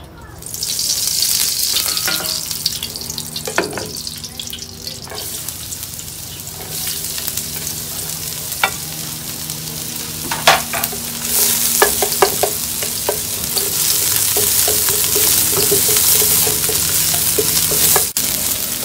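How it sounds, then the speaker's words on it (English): Garlic and ginger sizzle in hot oil in a skillet, a steady loud frying hiss with occasional stirring scrapes and clinks, swelling louder toward the end. "take a little bit and put it on a new skillet"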